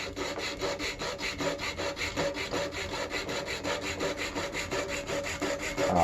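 Jigsaw fitted with an overly aggressive blade cutting through wood for a DIY wooden fender project, giving a steady, close rasping saw sound with rapid rhythmic strokes throughout, no talking.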